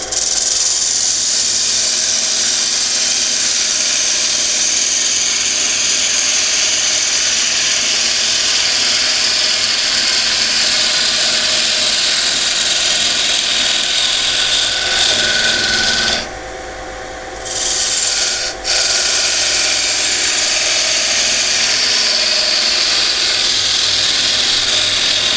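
A wood lathe parts a turned wooden box off its tenon, giving a steady, loud scraping rasp that runs continuously, with a brief drop near the end as the cut pauses before the rough cutting noise resumes.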